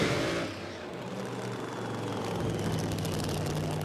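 A supercharged alcohol-fuelled drag racing car at Willowbank Raceway during a Queensland drag racing event, a continuous heard-from-a-distance roar that holds loud and steady across the whole moment.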